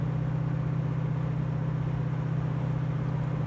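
A 1966 Ford Mustang convertible cruises along with a steady, low engine hum and a constant drone, even and unbroken throughout.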